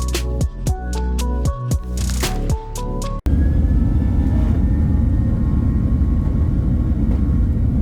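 After a brief musical jingle, a Malaysia Airlines jet begins its takeoff run from runway 15L at Kuala Lumpur airport, and a steady, loud engine and cabin roar sets in and holds without letting up.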